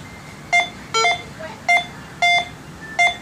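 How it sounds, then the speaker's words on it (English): A Go Find 60 metal detector sounds five evenly spaced electronic beeps over a nickel-type target, a coated bullet, loud and close, each tone short with a bright pitch. "That's ringing up as that nickel type of a target"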